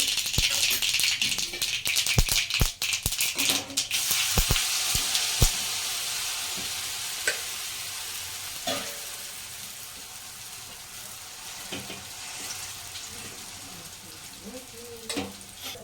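Bottle gourd handvo batter topped with sesame seeds cooks in a kadai, sending out a sharp burst of crackling sizzle and rattling pops at first that settles into a quieter, steady hiss.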